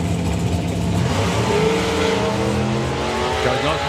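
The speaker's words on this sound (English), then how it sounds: "Car pulls the wheels up." A drag racing car with wheelie bars launches and accelerates hard down the strip at the FIA/FIM Euro Finals, a loud, roaring engine note climbing and sustained close by.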